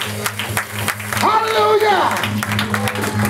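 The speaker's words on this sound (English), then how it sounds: "Give the Lord a hand clap of praise." A church congregation gives a hand clap of praise during a worship service, a burst of applause swelling under a spoken exclamation from the preacher.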